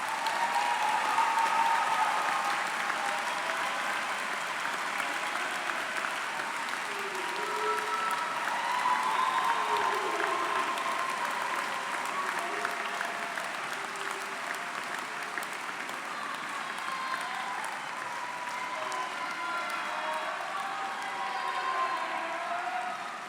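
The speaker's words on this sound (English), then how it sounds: "you deserve another huge round of applause" A graduation crowd at a Manchester Metropolitan University master's degree ceremony claps in sustained, dense applause that holds steady for over twenty seconds, filling the hall.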